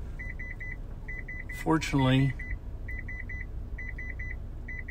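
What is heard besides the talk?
electronic beeping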